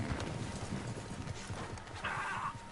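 Horse hooves plodding through snow in Red Dead Redemption 2, a run of soft, muffled clip-clop steps at a steady gait, close by with faint background ambience.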